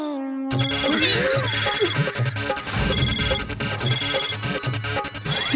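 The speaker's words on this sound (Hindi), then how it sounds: "रोशन का फोन है, उसको पता है मैं मेहता साहब के घर पे हूँ।" A mobile phone ringtone plays as a loud, busy electronic melody with repeating tonal phrases and a steady pulsing rhythm, starting abruptly after a brief gap and continuing throughout, with no talk over it.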